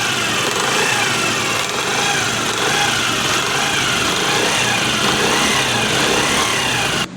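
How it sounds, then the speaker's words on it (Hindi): A new motorbike engine with an abnormal noise near the clutch housing, running close up: a steady, loud mechanical drone with a rattling, ticking texture that holds unchanged for about seven seconds before cutting off abruptly. "नवा बाइक है लेकिन इंजन आवाज़ करता है।"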